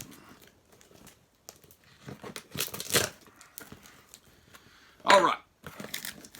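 A taped package box is ripped open with a series of close crinkling, tearing and scraping bursts, irregular and uneven, the loudest rips around the middle and near the end, with faint breathing between.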